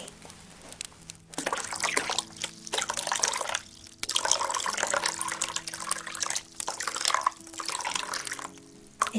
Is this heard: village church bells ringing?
no